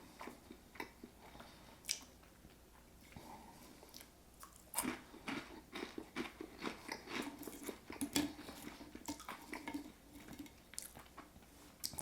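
Someone chews fried Honduran fresh cheese, browned and crispy: quiet close-up crunching and biting in irregular bursts, some sharp isolated crunches, with no talk.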